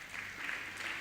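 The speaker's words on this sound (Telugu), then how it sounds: "చప్పట్లు కొట్టండి." Hands clapping from a church congregation during a Sunday worship service, a steady soft patter of applause spread across the whole moment, moderately distant and uniform.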